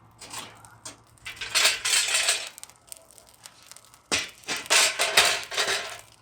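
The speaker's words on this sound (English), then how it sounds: "I'm going to spread the coals now." Charcoal coals scraped and pushed across a grill grate, two bursts of loud, close crunching and clinking rattles separated by a short pause, each lasting about two seconds.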